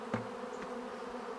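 A cluster of honey bees gathered during a swarm catch gives off a steady close hum, with brief louder passes as single bees fly near.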